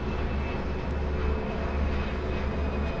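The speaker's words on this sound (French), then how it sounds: "un avion, un gros porteur, puisqu'ici on a justement de la 380 qui fait ses essais à proximité" An Airbus A380 large jet flies over near a detention centre where the aircraft does test flights, giving a steady, loud, broadband engine roar with a low rumble that holds constant throughout, with no voices.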